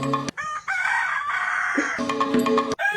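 A rooster crows loudly and close, with a long strained call stretched across the moment, broken by short gaps and clucking bursts at the start and end.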